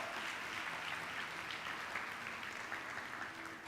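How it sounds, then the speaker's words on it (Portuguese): A Portuguese-speaking church congregation gives a strong round of applause during a communion service, a steady, even wash of clapping at moderate distance throughout. "Dá um aplauso para Jesus, que é o Deus das famílias, bem forte!"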